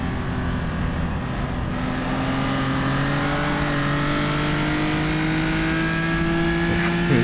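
A race car engine drones loudly and steadily from the cockpit of a racing video game set on the Isle of Man historic road course, its tone holding nearly level and edging slightly higher near the end, with no talk.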